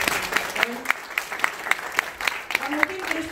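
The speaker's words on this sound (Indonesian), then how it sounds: "jadi tepuk tangan dulu dong sama Hoa" Applause for a person named Hoa at a sharing session, sounding as scattered, fairly thin clapping from a small group, with a steady rhythm of distinct claps over about three seconds.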